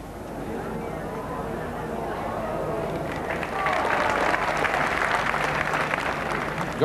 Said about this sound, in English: Got some applause, that ball